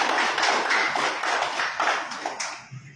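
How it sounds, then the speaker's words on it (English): A crowd applauds at a solidarity pact signing event for the 2025 local elections, with steady dense clapping that holds for about three seconds and thins slightly at the end. "A round of applause, please."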